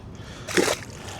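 A released catfish splashes once in the Mississippi River, a single brief close splash against quiet water and light ambient noise.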